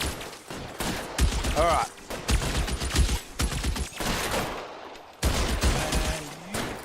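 Gunfire from the video game L.A. Noire, irregular bursts of shots in several clusters with game noise and brief speech between them, moderately loud.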